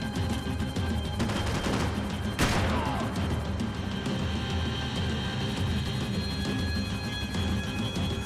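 Gunfire rings out in Max Payne 3 on PC: a steady wash of battle noise with a sharp, loud crack partway through, then a continued roar of action at moderate distance.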